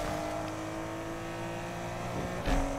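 A car engine hums and revs in Need For Speed Unbound on PS5, a steady droning tone that swells briefly near the end as it accelerates.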